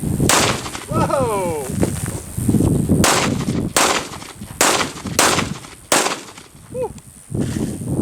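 Five sharp, loud shots from an FN Five-seveN pistol fired at a soda can outdoors, spaced about a second apart, with people briefly exclaiming between shots.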